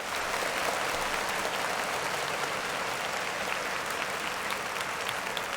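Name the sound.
applause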